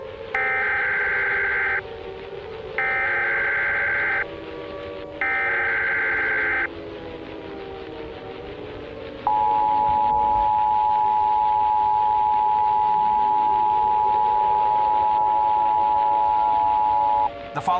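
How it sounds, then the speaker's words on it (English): Three short, harsh two-tone Emergency Alert System bursts repeat with brief gaps, followed by a long, steady single-pitch tone. "Important details will follow after the alert tones."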